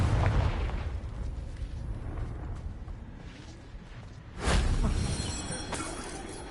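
A Confringo fire spell explodes against rocks in a Hogwarts video game: a loud, sudden blast bursts out partway through, over a steady rumbling game soundscape.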